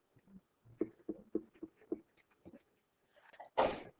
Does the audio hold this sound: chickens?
no